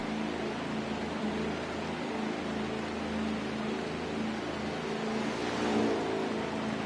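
Constant engine drone of race cars on pit road at Gateway during an outlaw cup series race, a mid-distance hum with engines swelling slightly near the end, no voices over it.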